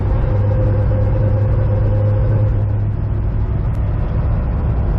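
A 2005 Chevy Corvette engine running rough in sixth gear with a rough-idle fault, heard as a loud, steady low engine drone and rumble from inside the car, with no talk.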